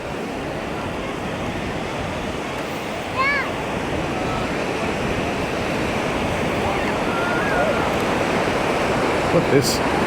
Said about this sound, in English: this beach is already packed